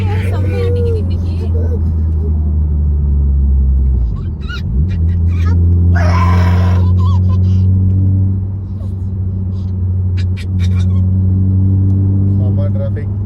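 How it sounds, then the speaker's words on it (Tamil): Heavy road traffic in Electronic City, heard from inside a moving vehicle: a loud, constant engine drone and rumble with passing vehicles whooshing by and occasional horn-like tones, while people talk throughout. "செம்ம டிராஃபிக்."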